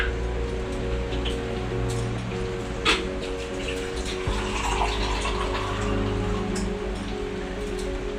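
Water is poured into two eggs in a bowl to thin them into batter for homemade chicken patties, a steady close splashing trickle over a constant low kitchen hum, with no talk.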